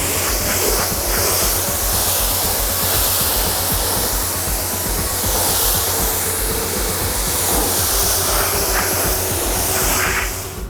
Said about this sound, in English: Once the foam has had a few minutes to dwell, you're going to want to rinse it off.